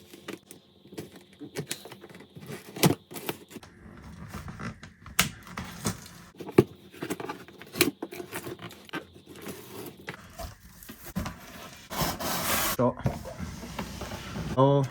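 Close-up rustling, crinkling and tapping of cardboard and plastic packaging as a Logitech G29 racing wheel box is opened, irregular clatters and scrapes throughout, with some speech in the background.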